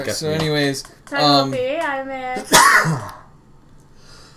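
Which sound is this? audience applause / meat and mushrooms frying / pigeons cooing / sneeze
sneeze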